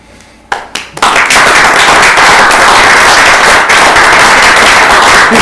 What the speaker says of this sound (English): everybody's clapping for him